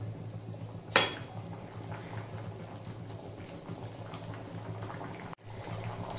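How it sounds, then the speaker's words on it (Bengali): A pot of vegetable curry with potatoes bubbles gently on the stove in a quiet, steady simmer, broken by one sharp clink of a utensil against the pot near the start. "বেশ কিছুক্ষণ ফুটিয়ে নিয়েছি"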